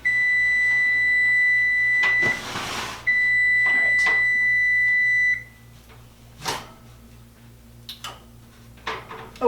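A kitchen timer emits a rapid, continuous high-pitched beeping, briefly interrupted, then stops; clattering and a short spoken remark follow.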